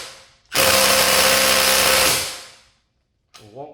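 A Milwaukee M18 Fuel impact driver hammers at a lug nut in one loud, sustained burst of about two seconds, then winds down, followed by a brief voice after a pause.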